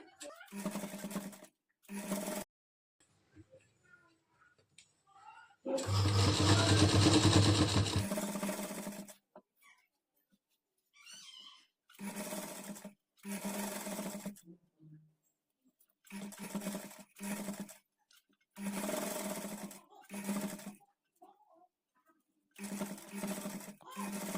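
A sewing machine stitches a kids' lehenga in a series of short whirring runs separated by pauses, with one longer, louder burst early on, all close and clear.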